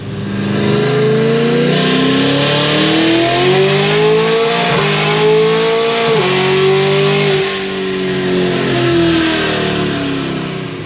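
A car engine revs hard and climbs to about 7,000 RPM, briefly nipping the rev limiter while a tire spins, the loud, steady drone rising and wavering in pitch with no talk.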